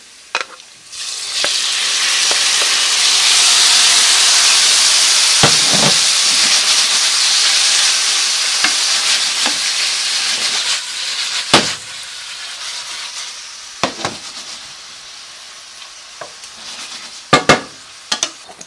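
Shrimp hit a pan of garlic that is almost browning over slightly reduced heat, and a loud, bright hiss and sizzle surges up. The frying gradually settles and thins, broken by occasional sharp clinks and scrapes of a utensil.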